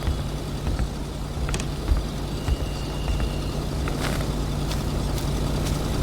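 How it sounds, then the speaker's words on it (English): A truck engine in the video game Kona runs with a steady low drone and hum, moderately loud, with occasional clanks and knocks over it and no speech. "The only thing I don't like is this truck with all that noise."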